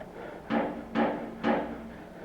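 Three heavy, evenly spaced thuds of pounding knocks on a front door, resonant and fairly near, in an otherwise quiet interior.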